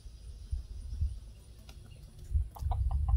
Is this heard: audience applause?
no